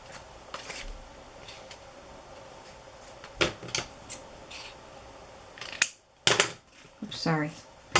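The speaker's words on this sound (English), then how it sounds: "Sorry, I know scissors are loud when you drop them." Scissors dropped onto a hard surface during paper crafting, giving a few sharp, loud clattering impacts spread over several seconds against a quiet room, with faint voice sounds near the end.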